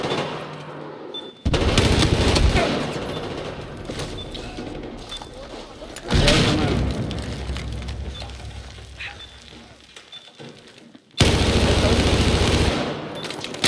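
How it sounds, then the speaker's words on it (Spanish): Battlefield 4 multiplayer gunfire: loud bursts of automatic fire and shots in three separate surges, with quieter stretches of distant shooting and game noise between them. "¿Quién me está disparando?"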